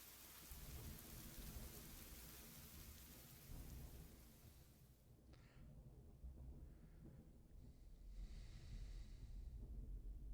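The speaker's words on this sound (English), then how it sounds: "Now the rain's normal." Steady heavy rain and rumbling thunder fill a video game scene, a dense storm wash that drops away midway, leaving softer patter and brief noise bursts.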